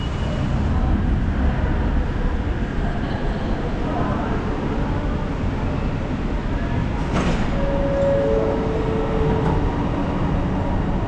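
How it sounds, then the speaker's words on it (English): Kuala Lumpur metro train on the way to KLCC, a steady loud rumble of the moving carriage throughout, with a brief clatter and a couple of faint tonal squeals near the end. "The good thing about KL also is you can pretty much take the metro to get most places."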